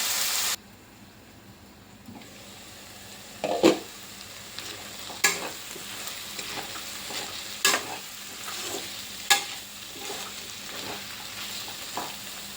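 Chicken and broad bean curry cooking in a pan with tomato, a low sizzle punctuated by repeated scraping stirs at regular intervals, close up and without speech.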